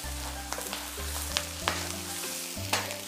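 Fermented black beans fry in a wok of oil with three-year Pixian chili bean paste for Sichuan twice-cooked pork, a steady close sizzle broken by several sharp scrapes of the spatula, with a low tonal hum underneath.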